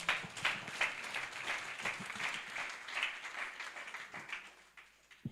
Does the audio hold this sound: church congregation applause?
yes